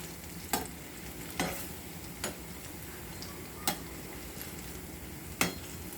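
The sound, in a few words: banana pitha (kola pitha) frying in a pan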